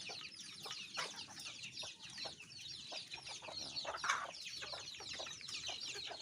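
Many Bangkok chickens clucking and chattering together nearby, a steady busy flock sound with occasional louder squawks and no talking.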